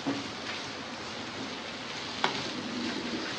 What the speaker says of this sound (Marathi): डाळ जरा भाजली पाहिजे चांगली.